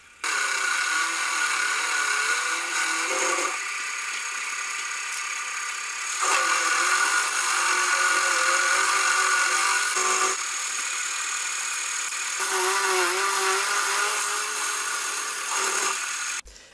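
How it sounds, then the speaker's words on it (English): A milling machine cuts slots into a steel bottom plate for a whetstone grinder build, a close, steady whine of cutting that breaks off and restarts in several long passes. "Now for the bottom plate, I'm going to mill in a small slot at each end"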